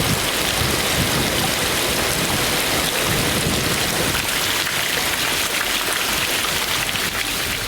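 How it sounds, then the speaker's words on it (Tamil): Heavy rain driven by strong wind in Tamil Nadu, a dense, continuous hiss and wash of downpour that stays loud and unbroken throughout. "1/2 மணி நேரமாக பலத்த காற்றுடன் கனமழை பெய்தது"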